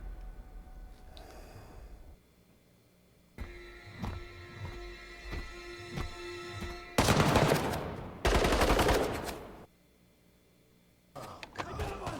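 Bursts of Halo 2 game gunfire, rapid automatic fire in loud close volleys separated by quieter stretches, with a few short single shots near the end.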